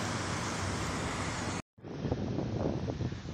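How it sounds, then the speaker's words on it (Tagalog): Strong wind by the sea roars and buffets the microphone as a dense, loud rush, briefly cut off by a short gap, then returning gusty and uneven. "Ay, grabe ang lakas ng hangin."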